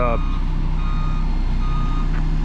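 Steady, loud reversing beeps repeat in an even rhythm from a ground-compacting roller on a worksite, over a constant low engine drone.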